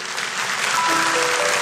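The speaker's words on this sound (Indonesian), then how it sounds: "Kasih tepuk tangan untuk Tuhan Yesus." Church congregation applauding during a Sunday worship service sermon, a dense steady wash of clapping from many hands throughout, with a faint sustained tone underneath.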